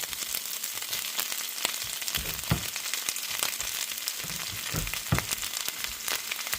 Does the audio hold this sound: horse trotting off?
no